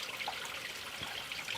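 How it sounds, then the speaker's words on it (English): Cold water trickling through a shemagh cloth used as a sediment filter outdoors, a steady soft hiss of running liquid that continues alone without any talk. "using the shemagh to filter out any sediment that may be in there is really going to come in handy"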